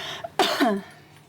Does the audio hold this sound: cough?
yes